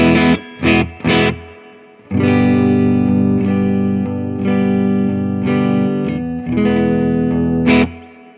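An electric guitar with a clean tone straight into the amp, no pedals and only light amp reverb, plays a few short plucked notes, then sustained ringing chords that swell and fade, clear and close.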